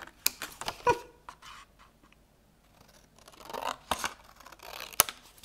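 Paper being cut with scissors for a scrapbook card: close, crisp snips and slicing strokes in a few short clusters separated by near silence, with no voices.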